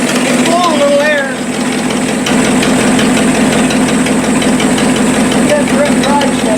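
A 1956 Lincoln Y-block V8 engine with a direct-drive setup runs steadily at close range, a continuous loud rumble with airy blowing, while people talk over it.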